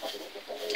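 A Plymouth Rock rooster in a coop gives a short run of soft clucks, close and moderately quiet, with no one talking over it.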